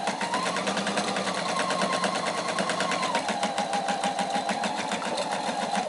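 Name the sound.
sewing machine back stitching a dart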